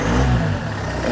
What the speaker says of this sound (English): let's go for a little blip of the throttle and see what that does